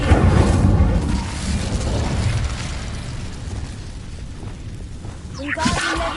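An Incendio fire spell goes off as a loud, sustained burst of roaring, crackling noise with boom-like weight, lasting several seconds and flaring again near the end.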